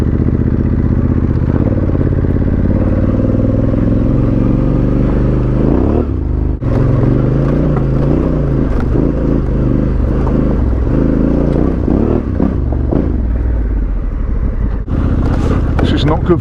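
Honda Africa Twin motorcycle with a manual gearbox ridden up close, its loud engine droning steadily and shifting pitch as it changes gear and accelerates, with wind rush and occasional clatter.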